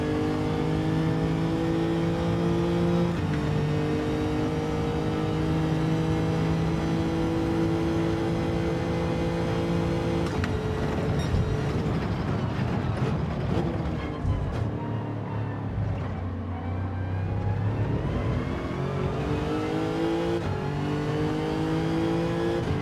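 A race car engine in Gran Turismo 7 holds steady high revs, then drops and roars back up through braking and corner exit, loud and continuous with no talk.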